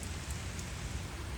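Rain falls steadily on a farm as an even, hissing patter with no breaks, fairly close and with no voices.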